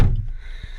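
Glove box of a Maruti Suzuki S-Cross 1.6 diesel snapping shut with a single close, dull plastic thunk, followed by a faint soft tap.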